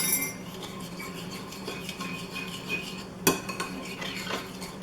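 Teaspoon scooping and stirring in a dish, soft scraping and light clinks of metal against the bowl, with one sharper tap partway through, close and fairly quiet with no talk.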